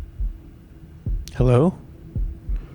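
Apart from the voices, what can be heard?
heartbeat sound in the video game Shadow of the Tomb Raider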